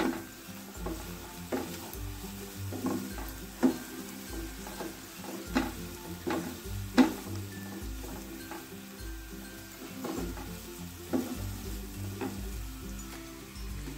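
Vegetables fry in a pan with raw onion and green chilli, a constant sizzle broken by repeated knocks and scrapes of a spatula stirring against the pan, with no one talking.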